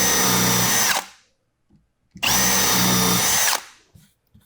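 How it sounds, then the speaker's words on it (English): A power drill whirs loudly in two separate bursts of about a second each, drilling pilot holes in wood, with a brief quiet pause and small knocks between them. "We're gonna drill a couple pilot holes here."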